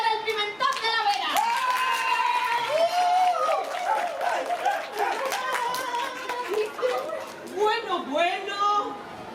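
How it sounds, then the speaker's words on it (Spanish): Audience applause with some cheering for Pimentón de la Vera paprika, heard as scattered clapping and crowd chatter, with lively voices and shouts over the clapping throughout. "aplausos para el pimentón de la Vera"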